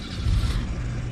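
A car engine in a video game, a steady close low rumble with a slight swell in revs, heard alone.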